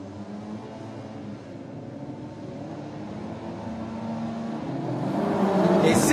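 Race car engines at the start of a circuit race at Dijon-Prenois, a low droning rumble that builds steadily and swells into loud revving near the end.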